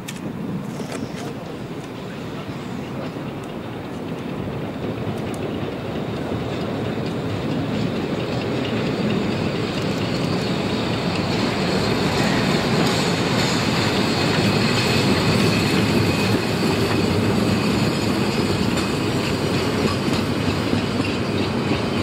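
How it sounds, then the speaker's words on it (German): A narrow-gauge steam freight train on the Zittau line rolls into a station on an autumn afternoon, its wheels clattering in a steady, loud rumble that builds and holds, with faint squeals from the rails. "Im nachmittäglichen Gegenlicht rollte unser Zug in Olbersdorf-Oberdorf ein."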